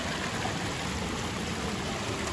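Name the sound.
Badva waterfall flowing water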